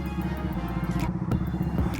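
A Dodge Challenger R/T engine idles unevenly up close, its low rumble loping and stumbling with faint clattering on top.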